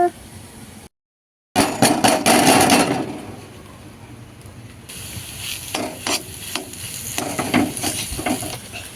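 Potatoes tipped into a pan of fried spices, sizzling loudly as a utensil stirs and scrapes in a burst of clatter, then settling into intermittent stirring knocks over a steady sizzle, with a brief dropout early on.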